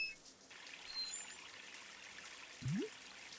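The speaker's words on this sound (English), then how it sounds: "Water's running." Water runs from a tap in a SpongeBob SquarePants video game, a faint steady trickle under soft game ambience, with one short rising gurgle near the end.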